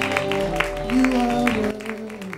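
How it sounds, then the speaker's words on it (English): A church congregation claps hands at a service, irregular claps sounding through singing and raised voices. "Clap your hands and bless the Lord, everybody."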